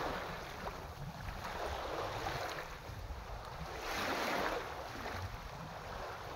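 Waves wash and surge in slow swells, a soft rushing roar rising and falling, with wind buffeting the microphone throughout.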